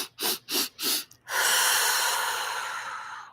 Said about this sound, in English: Now let's take 2 more rounds of our breathing